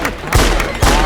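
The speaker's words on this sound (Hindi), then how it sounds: "ओ गोलियां चलाओ" Two sharp bursts of celebratory gunfire at a birthday party crack out about half a second apart, loud and close, with a festive crowd murmur faintly underneath.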